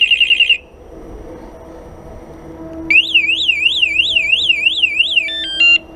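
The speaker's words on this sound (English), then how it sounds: "Here I have my alarm." A loud electronic security alarm on a Talaria Sting electric motorbike sounds alone: a short chirping burst, a lull with faint background noise, then a rapid warbling siren that climbs and falls repeatedly before switching to a stepped tone pattern.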